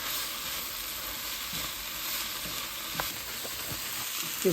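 Tuna fries with kale in a pan, a constant loud sizzle with a few soft stirring scrapes and knocks near the end.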